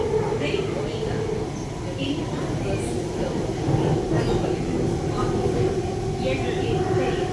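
A steady rumbling hum of a Bengaluru metro train in motion fills the scene, with faint rail clatter and people talking quietly underneath.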